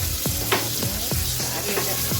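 Dried curry leaves fry in hot oil, giving a steady close sizzle broken by repeated sharp crackles and pops over about two seconds.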